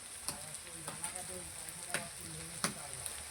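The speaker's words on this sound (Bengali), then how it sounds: "এবার একটু ভাজা ভাজা করবে" Masala with onion and garlic sizzles quietly in a pan while a utensil stirs it, scraping and tapping at intervals over a faint, steady frying hiss.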